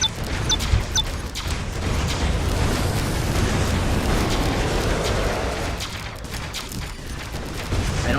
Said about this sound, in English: this boss does all of a sudden throw a bunch of missiles at you